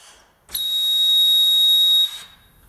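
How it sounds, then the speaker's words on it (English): A low-vacuum warning alarm on a vacuum lifting device sounds as one steady, piercing high-pitched tone lasting about a second and a half, starting and stopping sharply against quiet background. "You hear the alarm when the vacuum is too low."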